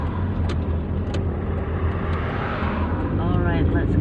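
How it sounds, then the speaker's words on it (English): Morning road traffic in Kuala Lumpur, Malaysia: a steady roar of passing cars close by, with a brief tonal whine near the end as a vehicle goes past. "Lots of cars in the morning"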